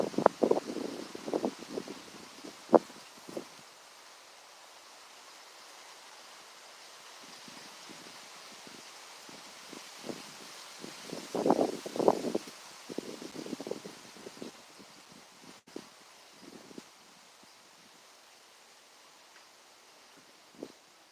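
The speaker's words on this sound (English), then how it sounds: "The wind has really picked up." Gusty wind on an autumn day rustling leaves in irregular bursts, fairly faint, with quiet stretches between stronger gusts and no voices.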